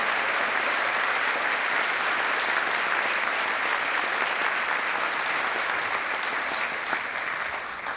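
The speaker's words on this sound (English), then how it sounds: "We need a round of applause for all of our incredible volunteers and business partners." Convocation audience gives a long, steady round of applause for volunteers and business partners, dense clapping holding at an even loudness throughout with no talking.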